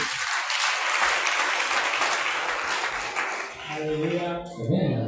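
A prayer-camp congregation bursts into loud, sustained applause and cheering, a dense wash of clapping that fades near the end as voices rise.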